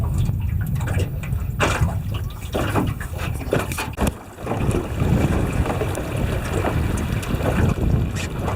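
A rough old tinny dinghy converted for sailing runs about 50 degrees off a light 5 to 10 knot wind, with steady wind buffeting the microphone and water washing against the hull, continuous and close.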